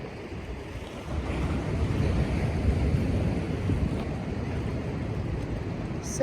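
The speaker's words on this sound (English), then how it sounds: "And the ever-present sound of the sea." Sea waves surge and wash steadily through rock sea caves on a beach, a continuous close roar of surf with gusts of wind buffeting the microphone, no voices.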